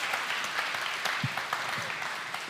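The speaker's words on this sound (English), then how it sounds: "Let's give Ilya a round of applause." An audience at a church testimony gathering claps, a steady round of applause with a few sharper individual claps standing out, moderately loud and heard alone.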